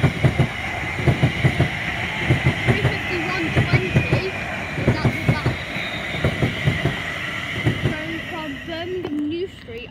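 Avanti West Coast Pendolino express passing on the West Coast Main Line, a rhythmic run of loud wheel clatter over rail joints that continues steadily, then fades near the end.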